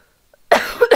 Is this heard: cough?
yes